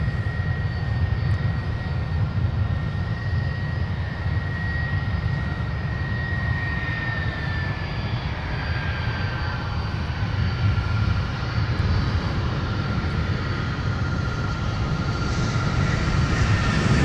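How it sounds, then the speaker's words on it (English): A Delta Boeing 757, flight 914 from Los Angeles, arriving at Minneapolis–Saint Paul airport, its jet engines a loud, continuous roar with a whining tone that slowly falls in pitch across the passage, no voices present. "And now arriving from Los Angeles, California with a 757 Delta"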